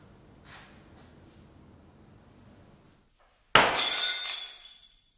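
Glass bottles smashing in one sudden loud shatter after near silence, followed by a spray of tinkling shards that fades out over about a second.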